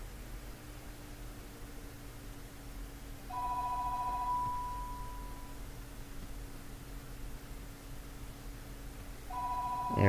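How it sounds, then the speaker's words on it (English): An electronic phone ringtone sounds in a video game: a steady warbling beep tone holds for about two seconds, then a second burst starts near the end, over constant hiss and low hum. "phone's about to ring again"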